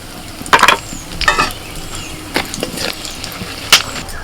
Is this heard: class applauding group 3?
no